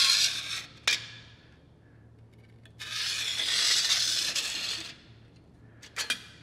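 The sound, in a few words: Sharpie marker drawing a circle on metal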